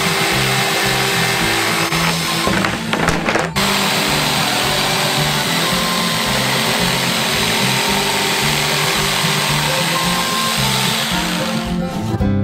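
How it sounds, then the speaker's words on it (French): An electric jigsaw cutting out a large shape, a loud continuous buzzing whine that runs almost without a break, with a short rattling stutter early on. "Il reste à la découper avec une scie sauteuse électrique."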